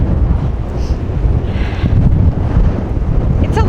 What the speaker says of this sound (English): We got a little bit of a break from the wind.